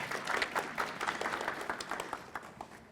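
An audience applauds a woman panelist, Mariana, as she joins a panel at a corporate communication and wellbeing event; steady, moderately loud clapping fills the whole stretch with some claps standing out.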